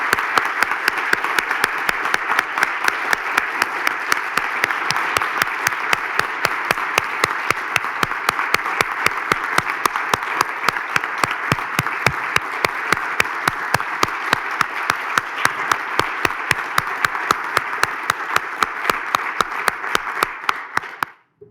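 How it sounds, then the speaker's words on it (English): A large audience at a university Board of Regents meeting breaks into sustained, dense applause, steady and loud throughout before cutting off abruptly at the end, with no talk over it. "Now, let's give her a very big round of applause."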